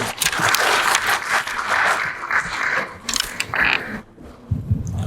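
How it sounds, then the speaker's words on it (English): Audience applause at a Government of Andhra Pradesh event, filling the hall as a steady, dense clapping wash that briefly thins near the end before picking up again. "Please welcome me with a warm round of applause."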